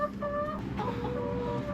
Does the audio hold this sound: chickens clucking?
yes